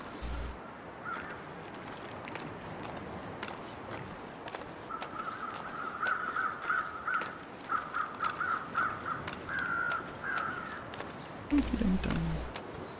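Crows caw repeatedly in a snowy outdoor setting in The Long Dark survival game, a run of harsh calls near the middle set against soft crunching footsteps and quiet ambient wind.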